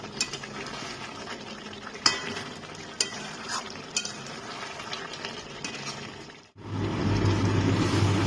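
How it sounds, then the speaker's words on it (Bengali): Chicken for chicken chap being stir-fried in a pan with fried onions: scraping stirring strokes and clinks over a steady sizzle, then a louder, even frying hiss near the end with no talk. "আমি কিছু সময় ধরে ভালো করে কষিয়ে নেব।"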